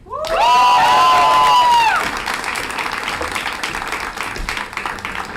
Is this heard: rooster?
no